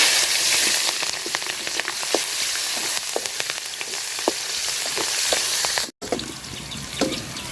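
Onion and chili fry in hot oil in a home kitchen as part of a rohu fish curry, giving a loud, steady, close sizzle with crackling pops throughout and a brief dropout near the end.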